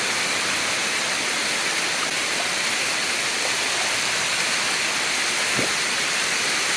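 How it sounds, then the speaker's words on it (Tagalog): Kaparkan Terraces Falls, a tiered waterfall in Abra, Philippines, roars as a steady, dense rush of flowing water from start to finish, close and loud. "Kahit pa hindi ganang ganong ka lakas yung agos ng tubig ay eh, napakaganda pa din."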